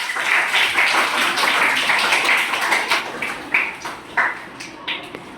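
A small group of children clapping in a classroom, a brisk burst of applause that thins out into a few scattered separate claps toward the end.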